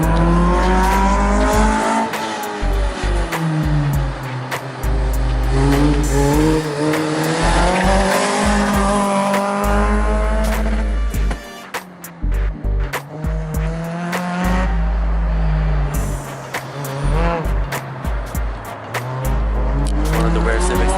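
A Honda Civic race car laps a track, its engine revving up and down through repeated gear changes with tire squeal during cornering, loud and close; people talk over the engine noise.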